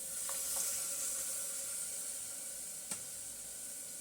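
Tomato puree with spices fries for biryani, giving a steady, soft sizzling hiss with a couple of faint clinks of a utensil against the pan.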